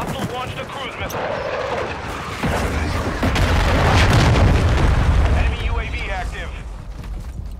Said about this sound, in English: Hostile launched a cruise missile.